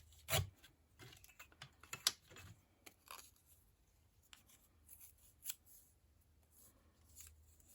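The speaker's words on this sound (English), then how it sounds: "So I'm going to use my metal ruler here for this. Give it a nice straight rip there." Paper torn against a metal ruler during junk journal crafting: a few short, quiet crackling rips and rustles spread over several seconds in an otherwise hushed room, with no talking.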